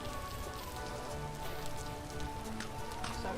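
Steady rain patters across the whole stretch inside the survival game Vintage Story, a dense even hiss with soft tonal game ambience humming beneath and no voices.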